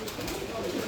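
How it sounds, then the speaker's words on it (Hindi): Rooftop pigeon at a Pakistani pigeon loft, cooing softly and continuously close by through a steady outdoor background, with no voices. "ये आ गया जी छत वाला कबूतर"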